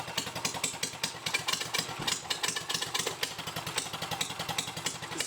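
A 212cc engine fitted to a Chinese quad idles while warming up, with a fast, uneven chugging putter and a rattling clatter close to the microphone, steady throughout.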